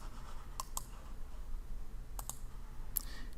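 Several crisp computer mouse clicks come in small pairs and singles, close and sharp over a faint steady background hum, with no talking.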